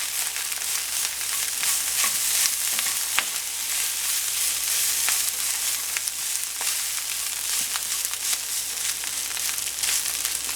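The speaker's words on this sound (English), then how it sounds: "we are just going to drop in just a small handful of bean sprouts" Steady, loud sizzle of rice frying in a wok, with sharper crackles as a small handful of bean sprouts drops into the hot fried rice with mushrooms and Spam, continuing evenly throughout without speech.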